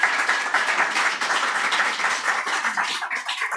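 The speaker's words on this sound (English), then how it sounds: "Another round of applause for Holaday" A crowd at a book launch applauds, dense steady clapping from an audience that continues evenly for several seconds without talk.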